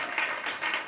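A live Story Collider storytelling show audience claps in a brief, dense burst of applause, steady and fairly close, with no voices over it.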